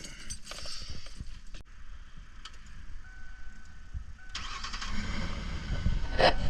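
A car engine cranks with clicking and whirring through a newly replaced starter, then catches around the midpoint and settles into a steady running rumble that grows louder toward the end.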